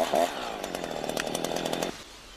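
A chainsaw runs at a steady, buzzing idle-to-rev pitch, moderately close, with a voice talking over it before the engine note drops away near the end.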